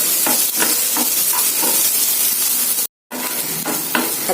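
Onions sauté in a hot pan with a continuous loud sizzle and hiss, broken by regular scraping stir strokes and one brief dropout of silence; no one speaks.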